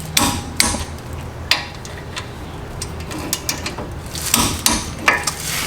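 A wrench tightens brake mounting bracket bolts with close, sharp metallic clicks and taps scattered irregularly, bunching into a quicker cluster near the end.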